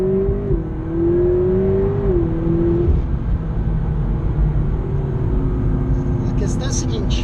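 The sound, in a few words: McLaren 650S engine accelerating in second gear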